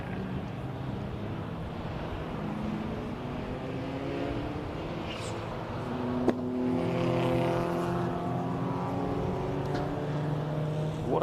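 MG racing cars file round the Brands Hatch circuit, their engines droning steadily at a distance, rising and falling as they pass, with one sharp click partway through.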